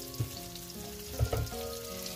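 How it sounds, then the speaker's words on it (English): Vegetables sizzle steadily in a hot frying pan in a home kitchen, with a few soft clinks of a utensil stirring them, close and continuous with no talking. "So, totally not healthy with the frying of our vegetables"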